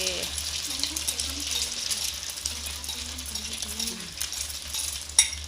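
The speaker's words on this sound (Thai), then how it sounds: "เทไข่ลงเลย ยกสูงสูง" Beaten egg poured into hot oil for a fluffy Thai omelette, frying with a steady bright sizzle and crackle throughout, a few soft scraping clinks and a sharp click near the end, with a voice talking quietly over it.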